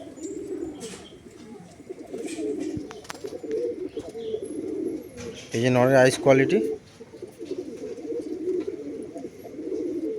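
Madrasi pigeons, a male and female pair, coo in repeated low throaty phrases close by, with one loud warbling burst midway, while someone talks over them.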